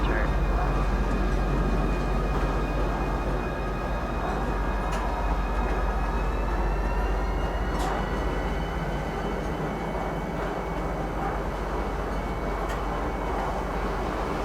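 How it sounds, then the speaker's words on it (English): Metro train in the video game Star Citizen rolling into a platform, a steady loud rumble with rising whine tones running throughout, with a voice speaking over it. "Step away from the platform edge when train is approaching."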